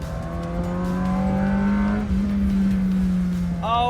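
A Ferrari 348 with a manual gearbox revs hard toward its 9,000 rpm redline while accelerating, its loud engine note climbing steadily and close by for several seconds, then dropping briefly before it rises again sharply at the end.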